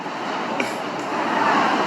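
A steady rumbling roar of a moving New York subway train fills the space, continuous and fairly loud, with a brief faint tone near the start.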